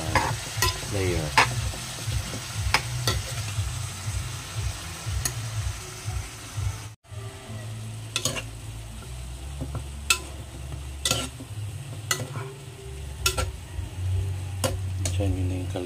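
Food frying in a pot for Filipino tinola, a spoon scraping and stirring with a steady sizzle, bursts of clinking against the metal, close and busy throughout.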